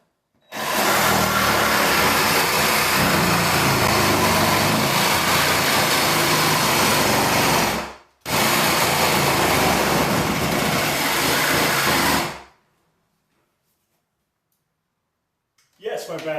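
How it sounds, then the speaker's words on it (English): Sawzall reciprocating saw cutting through a rotten wooden floor, loud and close, running continuously in two long bursts with a short pause between them, then stopping into near silence. "Opting for the Sawzall to do this instead of the circular saw."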